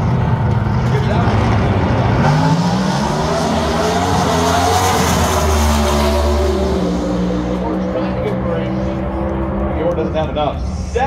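Camaro drag cars racing at an NHRA four-wide event in Las Vegas, a loud sustained engine roar with shifting pitch as the cars run, a commentator talking over it throughout.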